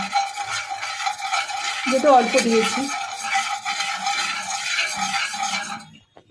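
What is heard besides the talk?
ghee being spread and stirred in a hot kadai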